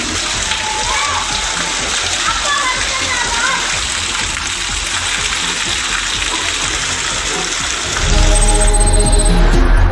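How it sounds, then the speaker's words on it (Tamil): Heavy pouring rain in Velayuthapuram, with children splashing and bathing in it, gives a steady dense wash of rain and water noise, and a louder gush near the end. "வேலாயுதபுரம் பகுதியில் சிறுவர்கள் கொட்டும் கனமழையில் குளித்து மகிழ்ந்தனர்"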